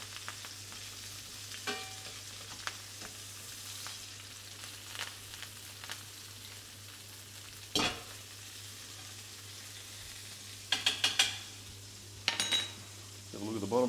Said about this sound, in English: So grab that, baste it over the top a bit.